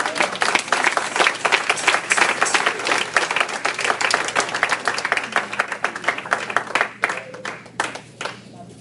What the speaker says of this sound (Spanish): Si puede aplaudir al Rey.